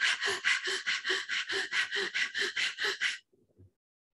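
Rapid, rhythmic panting breath of Swana Pranayama with the tongue out: about fourteen quick, forceful huffs in a steady beat, close and clear, ending in a couple of softer breaths before silence.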